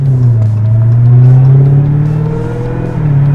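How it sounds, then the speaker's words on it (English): A 2020 Dodge Challenger Hellcat Redeye Widebody accelerates gently near the speed limit, its supercharger whine rising steadily over a loud, close engine drone for several seconds, with no talking. "The supercharger noise,"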